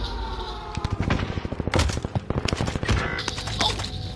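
Gunfire in the video game Warzone: rapid, close bursts of automatic shots crackling one after another throughout, with brief gaps between volleys and little talk.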